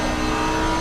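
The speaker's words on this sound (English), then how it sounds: "Oh man, just listen to these cars" Race cars in a sim racing series round at the Red Bull Ring, a brief loud steady engine drone with layered tonal whine throughout.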